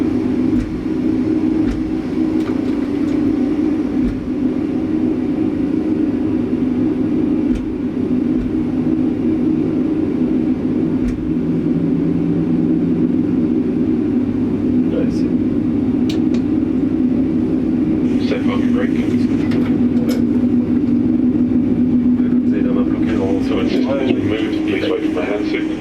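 Number two engine of an aircraft starting up, a loud, steady engine drone that fills the whole stretch with a few brief higher bursts near the end, while people talk over it.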